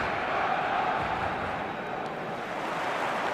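Stadium crowd in the eFootball video game, a dense, steady roar holding evenly throughout with no distinct shouts or chants.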